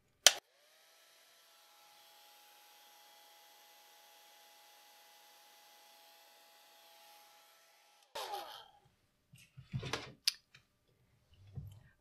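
A hair dryer blows steadily across a watercolor painting of a fawn for about eight seconds, a loud even whoosh, then switches off with a click followed by light clicks and handling noises.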